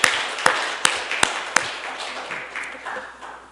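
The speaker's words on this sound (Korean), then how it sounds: "다시 한번 하나님께 영광의 박수 올려드리겠습니다" Worshippers in a church give a round of applause for God after a choir's hymn. A few sharp, evenly spaced claps stand out over a crowd's clapping that fades away, with no talking.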